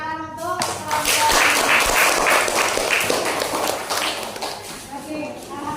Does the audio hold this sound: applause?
yes